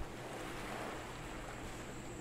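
Gentle water waves lapping in the Empyrion video game, a steady soft wash of noise, faint and continuous with no voices.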